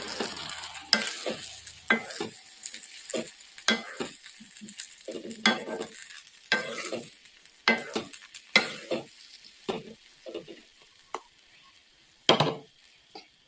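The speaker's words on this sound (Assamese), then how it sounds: "অকণমান লাৰি দিম।" Chilli jujube pickle is stirred in a pan in a series of irregular scraping and clattering strokes over a soft sizzle, close and fairly loud, no talking.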